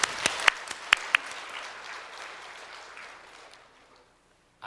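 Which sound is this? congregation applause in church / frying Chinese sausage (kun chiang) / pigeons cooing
congregation applause in church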